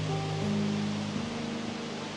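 A waterfall in Kagoshima, Japan, pours with a steady, even rushing roar of falling water, constant and unbroken through the short moment, with a few faint tonal traces over it.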